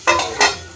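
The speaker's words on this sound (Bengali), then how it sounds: "ঢাকা দিয়ে দিচ্ছি" A lid is set on a cooking pan of vegetables for chowmein, making two quick metallic clanks in close succession, the second briefly ringing out.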